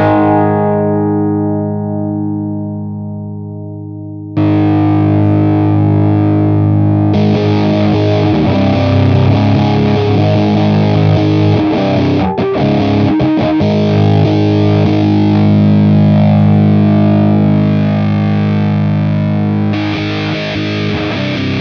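Electric guitar chords played through a JHS Muffuletta multi-mode fuzz pedal, a loud, thick, saturated tone that lets one chord ring and fade before a new fuzzy chord is struck and sustained.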